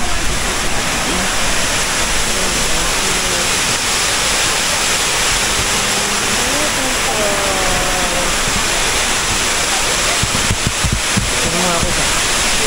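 Waterfall at Catcat village in Vietnam, a loud, steady broadband rush of falling water filling the whole clip, with voices talking faintly beneath it.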